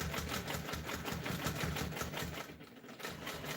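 A sewing machine stitches a quilt in the ditch with a steady, rapid mechanical chatter up close, easing slightly near the end.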